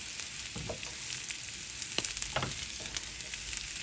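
Home fries potatoes seasoned with paprika sizzle steadily in a frying pan, with a few soft scraping stirs breaking through the constant crackle, close and moderately loud.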